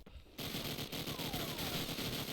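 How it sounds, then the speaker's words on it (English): Rapid bursts of automatic gunfire from Call of Duty 4 in a competitive match, loud and continuous after a brief quiet start, with rattling shots overlapping. "We hear gunfire."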